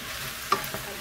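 Squash pieces fry in a soup pot under a steady low sizzle, and two short scraping strokes of a spoon stir through them.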